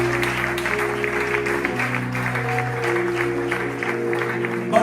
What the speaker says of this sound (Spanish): Yo quiero darle un fuerte aplauso a eso